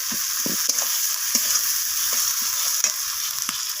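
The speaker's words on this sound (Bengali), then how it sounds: "মশলা আমি এইভাবে পেঁয়াজ আর টমেটোর সাথে কষিয়ে নিচ্ছি" Ground spices, including cumin powder, sauté with onion and tomato in a pan: a loud, steady close sizzle runs throughout, punctuated by soft, irregular taps of a spatula stirring the mixture.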